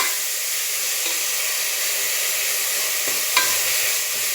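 Ginger garlic paste frying in a hot pan while being stirred, a steady close sizzle and hiss with soft scraping stirs and one brief clink near the end, no voices.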